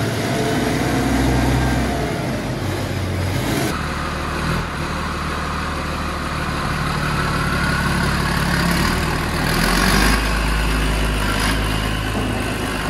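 A Massey Ferguson tractor engine runs steadily at idle, a continuous low rumble that stays close and fairly loud throughout, with no voices over it.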